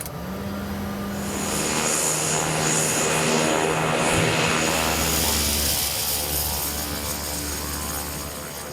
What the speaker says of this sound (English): usually rely on these Cessna Grand Caravans